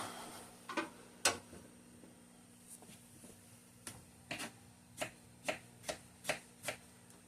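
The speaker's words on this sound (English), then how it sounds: "I'm going to cut these down a little bit" A knife cuts fruit toppings for waffles, giving a series of faint, close chopping taps on a board, irregular at first and then settling into a steady rhythm of quick cuts, with no talking.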